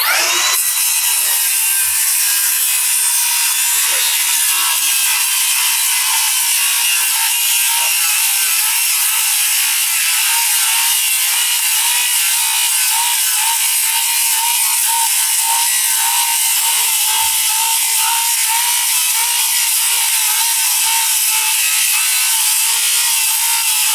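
A circular saw fitted with a Diablo 7 1/4-inch 24-tooth framing blade cuts through flashing, shingles and lag bolts in one loud, continuous, harsh high-pitched grind close by, with no talk.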